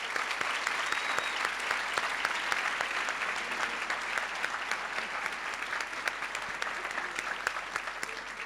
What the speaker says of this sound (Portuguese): eu vou mesmo pedir um tremendo de um aplauso por essa força.